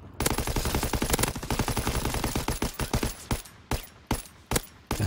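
Rapid automatic gunfire in Call of Duty WW2, loud and close, a dense burst of shots that breaks into a few scattered single cracks toward the end.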